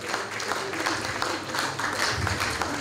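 An audience at an anniversary celebration for the Asante king Otumfuo Osei Tutu II claps steadily as a speaker comes up, a dense, fairly distant wash of hands that stays even throughout.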